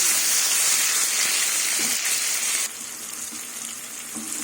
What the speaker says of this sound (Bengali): সিম বেগুন একসাথে ভেজে কিছুক্ষণ ভাজবো